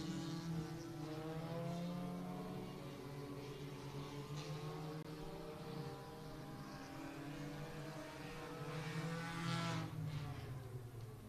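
Race cars roar around the Hibbing Speedway dirt track during a heat race, a steady loud drone of engines with strong harmonic whine rising and falling as cars pass, swelling near the end.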